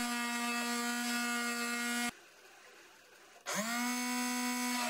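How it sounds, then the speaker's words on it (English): CNC router bit cutting into chipboard on a homemade machine built from optical-drive and printer motors, a steady close high-pitched motor whine with strong harmonics that cuts out for about a second and then spins back up. "the router is diving just slightly into the material"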